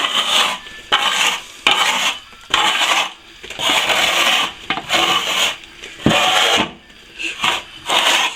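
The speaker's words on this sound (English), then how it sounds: "we'll give it a bit of a scrape off." A sand and plaster repair on a lath and plaster wall scraped back level, with loud, close, rasping strokes repeated in an uneven rhythm of about a dozen passes, with no one talking.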